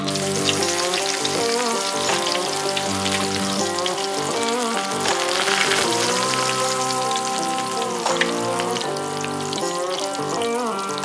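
Wild game lumpia deep-frying in peanut oil on a Recteq Matador, a steady dense sizzle and bubbling crackle that stays close and constant throughout, with music-like tonal layers running underneath.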